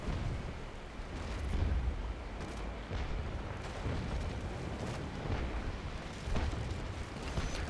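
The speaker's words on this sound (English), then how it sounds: "he is firing cannons one at a time" Naval Action sailing-ship combat, a Trincomalee frigate duel: cannons fire one at a time as dull booms rolling over a constant low rumble of sea and wind, steady and mid-distance with no talk.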